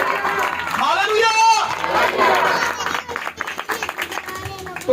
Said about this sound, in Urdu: زوردار تالی بجائیں اور خدا کے نام کے ساتھ ہاللویا